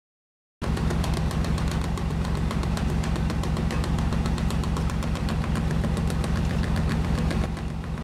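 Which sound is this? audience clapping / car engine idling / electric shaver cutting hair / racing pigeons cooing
car engine idling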